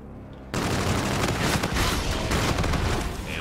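Gunfire in Call of Duty: Infinite Warfare breaks out abruptly into a dense, continuous rattle of rapid shots, loud and close, sustained for a few seconds with little pause.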